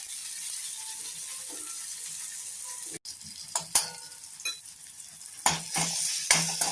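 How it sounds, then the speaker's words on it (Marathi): Spices crackle and sizzle in hot oil as a tempering for amti. Soft, continuous frying is broken by sharp spattering bursts and stirring clatter toward the end. "आता ही झालेली आहे फोडणी"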